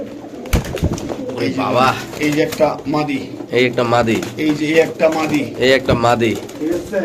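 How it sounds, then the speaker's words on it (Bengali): Desi long-distance pigeons coo near at hand in a pen at a pigeon market, their throaty calls tangled with continuous close talk from people. "কবুতর লং ডিস্টেন্সের কবুতর"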